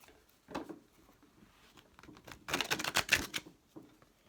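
Tarot cards are shuffled in quick riffling bursts, a brief flutter followed by a louder rapid patter, close to the microphone.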